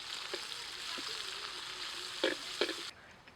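Onions sizzle steadily in hot oil for an outdoor curry, a continuous frying hiss with a few sharper crackles and spatters near the end.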